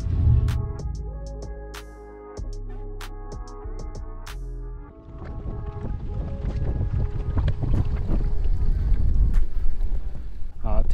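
Gusty wind on a lake during a bass fishing outing with a cold front moving in, roaring into the microphone around a boat and growing stronger through the second half after some brief tonal sounds at the start.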